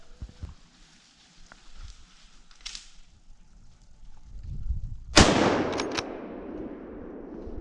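A single loud hunting rifle shot cracks nearby during a wild boar drive in the woods, then rolls off in a long fading echo, with scattered quieter rustles and knocks around it.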